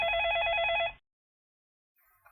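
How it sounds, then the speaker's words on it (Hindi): A telephone rings loudly with a rapid warbling electronic trill for about a second, then cuts off into silence. "ये सुबह सुबह किसका फोन आ रहा है?"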